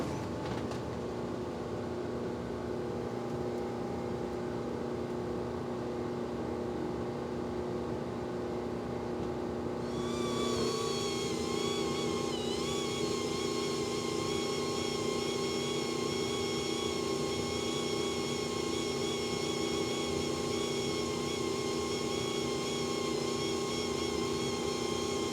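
3D printed industrial fan switched on, a low mechanical drone that rises partway through into a strong whirring hum with steady high whining tones, close and continuous.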